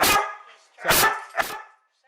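A trained alert dog barks three times at fairly even intervals, loud and close, with silence between the sharp barks.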